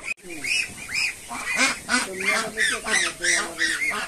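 Nasal honks repeat in a steady series from a flock of Chinese ducks on a farm nearby, loud and rhythmic, several calls overlapping each other.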